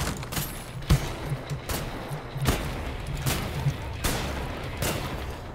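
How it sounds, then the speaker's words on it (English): Gunfire rings out in Wolfenstein: The New Order, a run of sharp shots and bursts roughly every 0.8 seconds over continuous rumbling game noise, fairly loud, without talk. "Bullets!"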